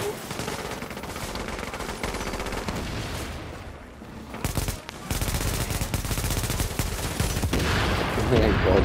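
Gunfire in the video game Tom Clancy's The Division: dense rapid automatic bursts and single shots, loud and continuous with a brief lull, with voices talking among the shots.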